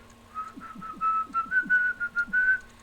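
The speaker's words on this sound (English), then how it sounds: "You know what is whistle? Like this." A person whistles a short, bright tune of several quick rising notes, close and clear, with a few soft breathy sounds between the notes.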